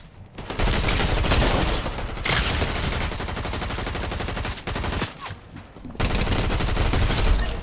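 Dense bursts of Fortnite gunfire rattle loudly for several seconds, rapid automatic volleys broken by short gaps and a few heavier shots.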